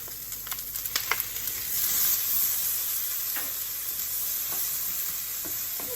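Cauliflower sizzles and fries in a pan with dry spices and masala while being stirred, with scraping spoon strokes and clicks at first, then a steady close hiss of frying.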